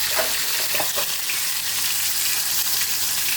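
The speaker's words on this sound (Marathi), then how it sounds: "टॅमॅटो आता ह्याच्यात टाकते मी प्रथम" Tomatoes dropped into a hot pan of oil for a spicy egg curry set off a loud, steady sizzle that fills the whole stretch close up, with no talk.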